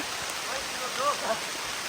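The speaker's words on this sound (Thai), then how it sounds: "ตอนนี้ฝนกระหน่ำไปหมดแล้ว" Heavy rain pouring down in a forest, a dense, constant hiss filling the whole moment with no breaks, loud and close all around.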